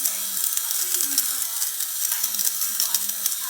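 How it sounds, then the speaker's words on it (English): An electric fabric shaver run over couch upholstery to remove lint gives a steady, close, hissing whir with faint rasping clicks throughout. "So I use this fabric shaver."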